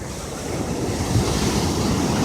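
Ocean surf breaking on a beach as a steady, loud, broadband roar with a slight swell partway through, mixed with wind buffeting the microphone and no voices.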